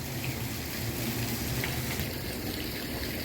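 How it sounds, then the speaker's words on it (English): Water from a karst spring at Big Spring Park gushes up from underground channels below a cliff face, making a steady, dense rushing roar. "Water from underground surfacing, going through underground channels in the karst system."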